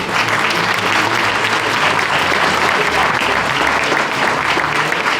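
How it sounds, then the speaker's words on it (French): Sustained applause from the audience at a November 11 remembrance ceremony in Marchiennes, honouring the local firefighters; steady, dense clapping fills the whole stretch at full volume. "vous pouvez les applaudir"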